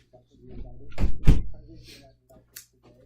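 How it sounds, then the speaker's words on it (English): A close door thud and rattle as it swings shut, with a few quieter knocks afterward and a voice speaking briefly. "Let me shut the door"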